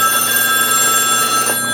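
A telephone rings close by with a steady bright electronic ringing tone, sustained and clear for under two seconds.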